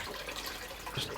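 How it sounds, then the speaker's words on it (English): Water pouring and splashing as cooked potato gnocchi are drained in a kitchen, a close, steady rushing flow with a brief bright splash near the end. "Drain all the water off."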